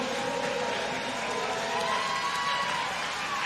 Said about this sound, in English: All of Minnesota cheering here on Leanne Smith